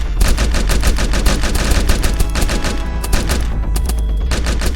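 Rapid automatic gunfire from a video game, loud and sustained, with dense bursts of shots running almost without pause from start to finish.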